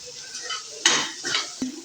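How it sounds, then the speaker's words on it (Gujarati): Boiled elephant foot yam for a dry Gujarati suran bhaji is stirred with salt and spices in a pan, giving three or four quick, close scraping and clattering strokes over a couple of seconds. "હવે આ બધું આપણે મિક્સ કરી દઈશું."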